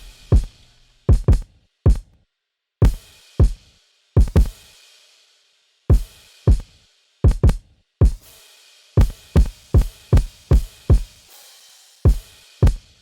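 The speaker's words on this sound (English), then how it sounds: "Then I added a cymbal that I wanted to hit, not with every kick, but most of the kick." A programmed hip-hop beat made from a chopped sample, with kicks, hi-hats and a crash cymbal landing on most kicks, plays alone in uneven clusters of sharp, punchy hits separated by brief silent gaps.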